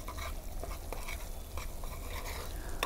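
Neem leaves being stirred in oil in a pan over low heat, giving a steady soft scraping stir with a faint continuous sizzle throughout, no voices.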